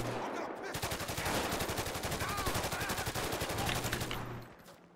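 Sustained rapid automatic gunfire in a GTA 5 Online mission against The Lost MC, a dense fast rhythmic burst lasting several seconds at close range before tapering off.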